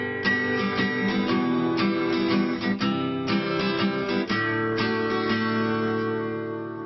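A guitar strummed in a syncopated 3/4 pattern gives bright, full chord strokes in an uneven, off-beat rhythm. Several bars of it ring out loud and close, with chord changes along the way and no talking.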